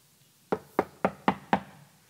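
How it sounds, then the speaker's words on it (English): Five sharp, evenly spaced knocks on a door, loud and close, each with a brief dull ring-out, following a short quiet start. "Then they heard the knocking at the door themselves"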